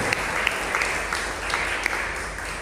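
A church congregation claps together in steady rhythmic applause at a Sunday service, a dense and fairly loud wash of hands with regular accented beats and no talk over it.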